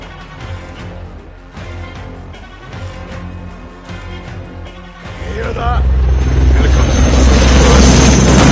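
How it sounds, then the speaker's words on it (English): A helicopter in a Call of Duty campaign mission builds in from about five seconds as a loud, steady low rotor rumble, swelling over earlier game noise and muffled voices. "Hear that? Helicopter."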